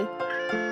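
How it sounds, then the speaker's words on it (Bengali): A cat meows twice in quick succession, bright and close, each call rising and then falling, with nothing else audible. "বিড়াল ডাকে"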